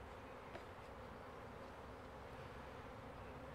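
Honey bees buzz steadily around their hives in an outdoor apiary, a dense continuous hum that stays even and close throughout with no talking.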